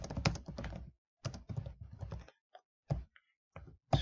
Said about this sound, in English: click on it, and type in, what is your name?